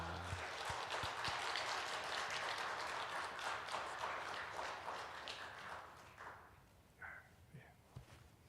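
A crowd at a church Friday prayer service claps in warm, sustained applause that gradually fades out, leaving a few scattered sounds at the end.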